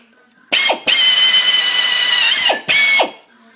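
A power drill with a loose bit whirs at high pitch in two bursts, the first long and steady, the second shorter, with brief pauses between, drilling holes in a Polaris Sportsman factory exhaust.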